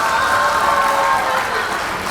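Applause at a juggling competition in Hong Kong, a dense burst of clapping from an audience that fills the whole short moment and begins to thin toward the end.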